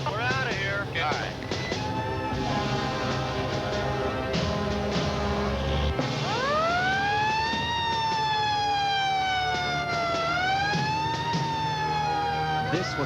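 A full fire station response with a fire engine, squad and ladder truck racing to a scene, sirens wailing and sweeping up and down loudly over engine rumble and road noise, with radio chatter and talk beneath.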